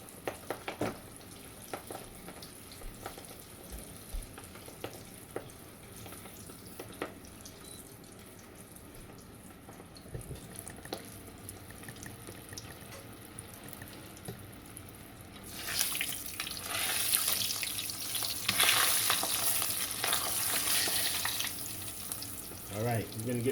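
Lobster and shrimp corn dogs frying in oil, a faint bubbling at first that swells into a louder, crackling sizzle over the final third.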